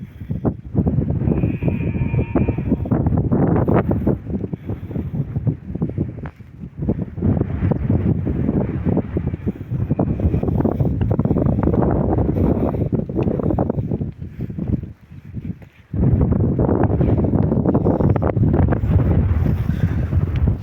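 Strong desert wind buffets the microphone in loud, rough gusts that roar almost continuously, dropping out briefly about three quarters of the way through before surging back.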